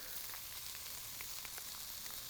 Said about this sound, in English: have got it stir frying